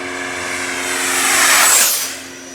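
A Freewing Eurofighter Typhoon RC jet with an 8s 90mm electric ducted fan roars at full throttle, its high-pitched whine swelling louder as it passes close and then fading away.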